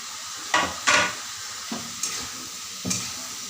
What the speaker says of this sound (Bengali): আমি এবারে চিকেনের পিসগুলো এর সাথে মেশাবো।